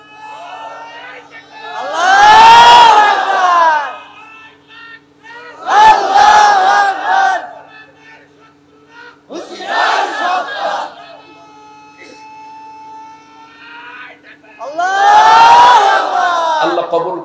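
A large crowd at an Islamic sermon roars chanted slogans in unison, loud, rising bursts every few seconds answering a leader, with a low hum between the shouts.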